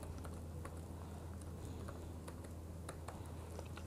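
Keys clatter on a computer keyboard as code is typed for an ASP.NET C# shopping cart project, a quiet, close, irregular patter of taps with no talk.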